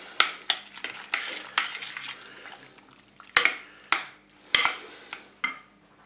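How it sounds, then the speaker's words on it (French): Crème fraîche and mustard mixture is stirred into a salmon and leek gratin. A spoon gives a run of sharp knocks and scrapes against the pot, several of them loud, over a soft background hum. "Maintenant, je vais ajouter mon mélange crème fraîche moutarde. Je vais mélanger."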